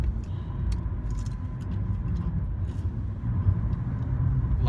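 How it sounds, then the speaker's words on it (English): A car rolls past outside, a low, steady engine and tire rumble that swells slightly toward the end, moderately close, with no talking. "Oh, that's a car."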